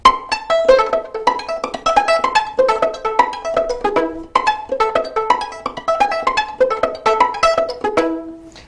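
Rapid plucked violin notes in a lively, bouncing run from a pizzicato variation in Paganini's 24th Caprice, each pluck short and bright, repeated in quick rhythmic phrases with brief pauses between groups.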